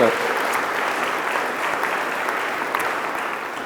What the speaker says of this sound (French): On peut l'applaudir, bien entendu.